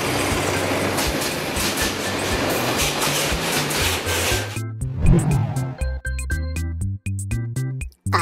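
A real diesel freight or passenger train rumbles past close by in a loud, dense roar of engine and wheels, then gives way to rhythmic clickety-clack of cars rolling over the rail joints.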